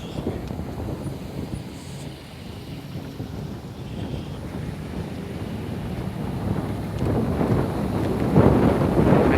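Outdoor wind buffeting a microphone, producing continuous low rumbling gusts that swell louder toward the end.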